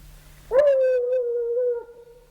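A coonhound on a raccoon scent lets out one long, drawn-out bay that starts sharply and holds steady for more than a second before tapering off. It is loud and clear outdoors, with no one talking.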